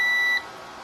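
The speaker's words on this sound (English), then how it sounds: "That's going to turn the battery backup on, and it's going to beep." A battery backup unit beeping as it is switched on, one sharp high-pitched electronic tone lasting under half a second, then cutting off to a faint hum.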